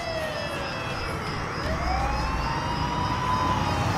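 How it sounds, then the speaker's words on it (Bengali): A police car siren rings out in rising and falling wails as a sound effect for the car pulling up in front of a house. It is continuous and fairly prominent, with no talking. "একটা পুলিশের গাড়ি এসে থামে বাড়ির সামনে"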